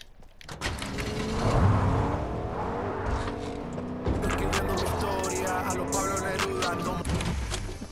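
Vehicle engine in a Fortnite Creative battle royale map, a steady droning motor with shifting pitch that holds for several seconds, sitting mid-loud under someone talking over it.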